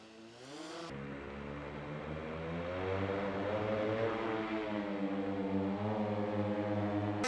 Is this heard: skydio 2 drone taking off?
yes